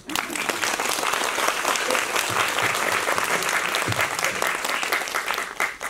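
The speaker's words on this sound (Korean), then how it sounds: "큰 박수" Sustained applause from an audience at a twentieth-anniversary film screening talk at the Busan International Film Festival, dense and steady clapping filling the room for several seconds without a break.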